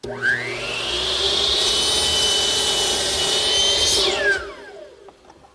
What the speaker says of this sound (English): Here at my miter box, I'm squaring up one end, sliding it down to my stop block, which is set at 28 1/4, and cutting it to length.